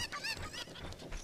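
A cucco chicken in The Legend of Zelda: Ocarina of Time squawks in a continuous honking, goose-like call, loud and close, filling the short moment with no talk over it.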